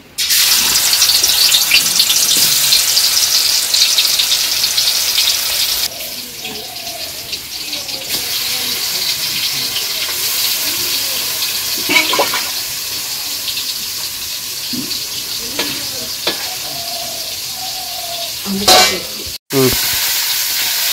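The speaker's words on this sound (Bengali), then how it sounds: "তেল গরম হয়েছে আর মাছগুলো দিয়ে দেই" Fish frying in hot oil in a Bangladeshi village kitchen, a steady loud sizzling hiss that softens slightly partway through, with faint clinks and stirring noises.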